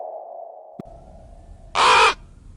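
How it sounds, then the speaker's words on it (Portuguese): One loud, harsh caw from a raven or crow bursts out close by, following a steady low hum and a faint click. "Terceiro, ravena e corvo."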